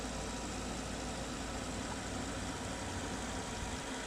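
Volkswagen Phaeton W12 engine idling, a faint, smooth, even hum with a low steady drone and no voices.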